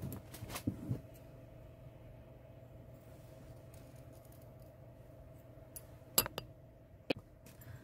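Scissors snip through fabric pieces for a calf character doll: a few crisp cuts at the start, a long quiet stretch, then a couple more sharp snips near the end, close and isolated with no talking.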